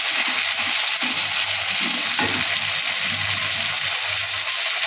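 Small scaled fish (parshe) sizzle and crackle steadily in hot oil in a pan, a loud continuous frying hiss with occasional stirring bumps, heard on its own without any talking.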